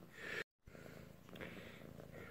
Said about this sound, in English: The cat showing an interest.